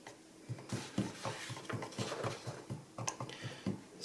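A stainless steel rod stirs Giardini Maxmatt edge paint in a container, giving a steady run of soft rhythmic knocks and scrapes about twice a second, close and fairly quiet, with no talking.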